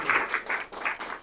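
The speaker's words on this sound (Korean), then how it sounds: "오늘 열정적인 강의를 해주신 교수님께 큰 박수 한번" Applause from an audience closing a lecture on a Salmonella vaccine platform, short and moderately loud, with a few swells of clapping across about a second.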